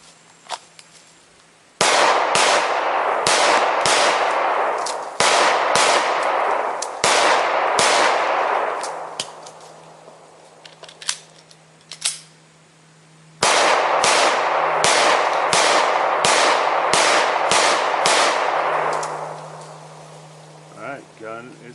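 Smith & Wesson M&P Shield 9mm pistol fired at about 21 feet, two strings of sharp close shots in quick succession with ringing decay, separated by a pause.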